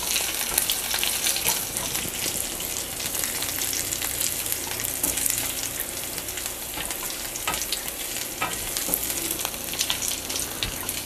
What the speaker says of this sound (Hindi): इसको जो है ऐसे करके भून लेंगे। बस ये अदरक कच्चा ना रहे।